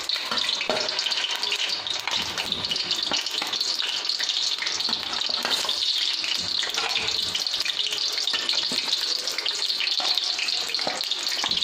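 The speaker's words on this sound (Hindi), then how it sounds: "तो अब हम अपने राइस बॉल को फ्राई करते हैं।" Rice balls frying in hot ghee in a kadhai, a dense, continuous hiss and crackle of bubbling fat heard up close and steady throughout.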